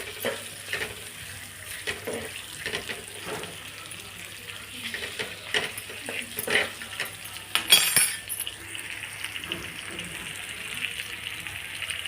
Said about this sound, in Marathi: कांदा चांगला तळून घेऊ। तेलामध्ये हळद टाकलेली मी